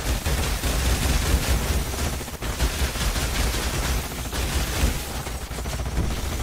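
Troops in Age of Wonders Planetfall fire their guns in a dense, continuous crackle of rapid shots that holds loud and steady throughout.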